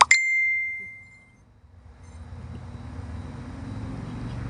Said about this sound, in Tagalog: Tumunog yung cellphone.